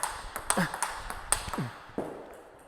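Table tennis ball struck with a racket faced in Butterfly Rozena rubber, producing a series of light, clicky pings with irregular spacing and soft bounces, close and fairly quiet.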